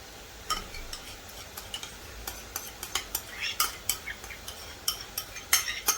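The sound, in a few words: butter melting and being stirred in a pan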